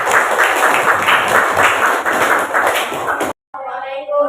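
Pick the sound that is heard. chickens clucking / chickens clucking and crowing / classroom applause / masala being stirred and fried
classroom applause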